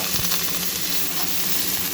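Curry leaves and coriander sizzle steadily in hot oil in a pan, a close, continuous crackling hiss with no pauses.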